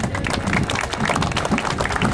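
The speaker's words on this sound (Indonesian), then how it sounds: "mari kita berikan tepuk tangan untuk Tuhan" A congregation at a church inauguration in Pegunungan Arfak, Papua, claps together in dense, steady applause that fills the whole stretch at close range.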